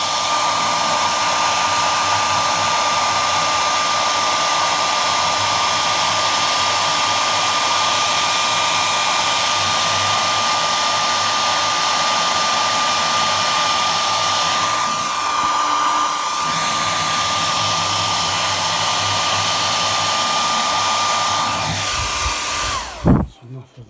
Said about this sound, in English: I've been heating it up with a hairdryer, just like this.